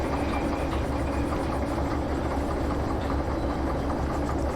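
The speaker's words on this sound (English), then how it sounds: "Let the train happily roll back" A train rolls back slowly at just over 10 in the Derail Valley simulator, giving a loud, continuous low rumble with rhythmic rail texture and no talk over it.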